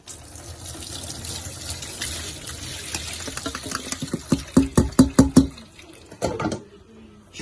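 Water from a kitchen tap runs and splashes while spinach is strained, starting as a steady stream, then breaking into irregular gushing splashes and drips close by.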